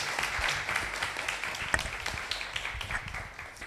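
Audience applause for a women's autonomous and intelligent technology panel, moderate and steady with scattered individual claps rising through a room-filling patter, no voices over it.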